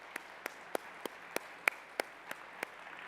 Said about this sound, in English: So let's give these panelists a round of applause.